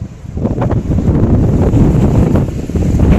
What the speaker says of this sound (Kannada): ಗಾಳಿ ನೋಡಿ ಹೆಂಗೆ ಬೀಸ್ತಿದೆ